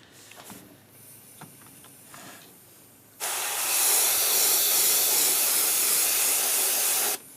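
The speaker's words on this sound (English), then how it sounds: "grab your airbrush" An airbrush sprays paint onto a fishing lure, with a few quiet handling clicks first and then a loud, steady hiss of air and paint that holds for about four seconds before cutting off abruptly.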